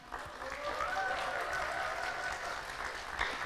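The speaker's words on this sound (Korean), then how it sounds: "환호와 박수로 맞이해주고 계시네요" Audience applause and cheering greet a poet walking onstage at a Korean literary talk event, steady dense clapping with crowd voices lasting throughout, fairly close and continuous.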